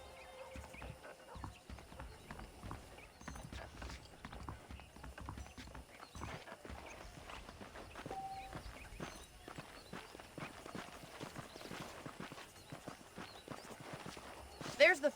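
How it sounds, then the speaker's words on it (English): Horse hooves clip-clop in a steady walking rhythm in the video game Red Dead Redemption, fairly faint, with people talking over them. "The horses are saddled up over here."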